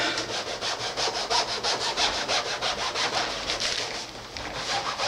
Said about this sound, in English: I thought I'd use this file. It's a bit dirty, but it'll be alright